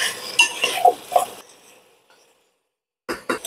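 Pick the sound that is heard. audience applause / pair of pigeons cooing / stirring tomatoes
stirring tomatoes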